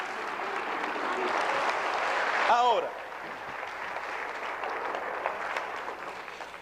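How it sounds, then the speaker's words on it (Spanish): A church congregation applauds during a Sunday-morning sermon, a dense wash of clapping that ends abruptly as a voice starts speaking over a quieter room. "Dale un aplauso a él esta mañana."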